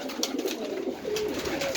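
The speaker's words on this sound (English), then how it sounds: "there's the pigeons happily eating" Pigeons coo softly and repeatedly while feeding in a scrapyard, a close, low throaty burbling with small pecking and shuffling sounds around it and no talk.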